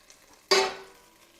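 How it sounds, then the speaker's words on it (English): Butter hits a hot pan while cooking a filling for baked Argentine empanadas, bursting into a sudden loud sizzle that slowly fades to a softer hiss. "So I'm gonna melt the butter for a little while."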